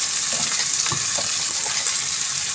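Tomatoes fry with salt for a potato, pea and capsicum curry, a constant strong sizzle with light scraping of a spoon against the pan, close up and uninterrupted by voices.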